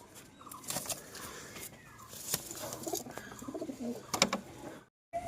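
Homer pigeons coo softly and repeatedly at close range in a cage, mixed with wing flutters and scuffling, ending in a brief silence.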